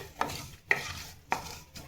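Cumin seeds and bay leaves dropped into hot oil in a pan for a vegetarian pulao, with a few close, short bursts of sizzling and stirring scrapes spaced about half a second apart, no voices.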